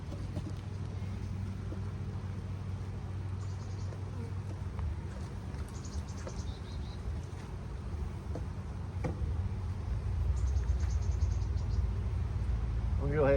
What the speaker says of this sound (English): A lot of bees in there, which is great.